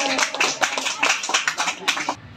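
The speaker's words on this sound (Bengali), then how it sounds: "মাশাআল্লাহ, খুব সুন্দর হয়েছে, তার জন্য একটা হাততালি হোক" Close, lively clapping from a small group for a participant in an Islamic quiz, a quick burst of uneven hand claps that fades out after about two seconds.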